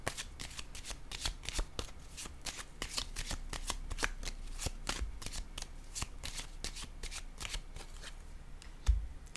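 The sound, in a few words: tarot cards being shuffled and laid down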